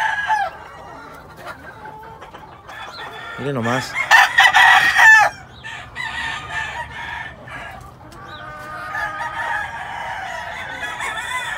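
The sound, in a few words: rooster crowing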